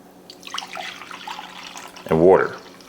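Water pours briefly into a 50-50 vinegar and water brine for smoked beef short ribs, a short close splash after a stretch of quieter background sound.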